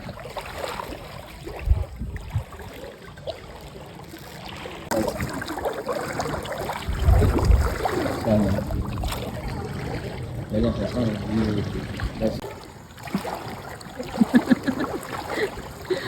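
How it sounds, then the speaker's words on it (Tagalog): Sloshing and splashing of feet wading through street flood water after stepping off a boat, with people talking throughout and occasional louder splashes. "Naglalakad kami sa baha mula sa kanto."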